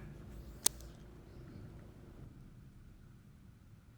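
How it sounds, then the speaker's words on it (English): Low, distant thunder rumbles faintly beneath soft steady rain, with one sharp click early on. "Can you guys hear the thunder?"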